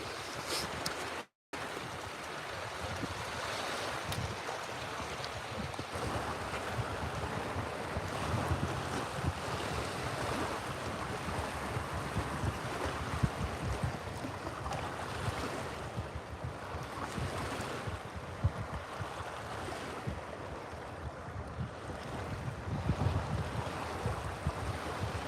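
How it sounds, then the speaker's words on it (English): Waves slap against a small fishing boat on a reservoir under constant wind buffeting the microphone, making a steady wash of water and gusting noise with no talk. "how the waves are hitting it"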